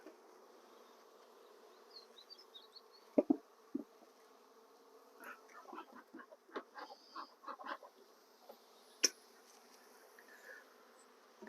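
Honeybees in an opened hive's lower deep brood box give a faint, steady buzz, with scattered brief knocks and scrapes of frames and hive tools over the top, close by and quiet.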